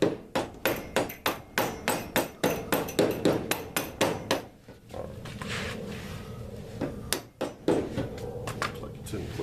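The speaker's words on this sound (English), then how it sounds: "Get a small hammer, whack it with that." A small hammer strikes a car suspension part during installation of T3 camber plates and springs on a 4G63, a run of close, sharp metallic whacks in a steady rhythm, a pause with faint shop noise, then several more hits.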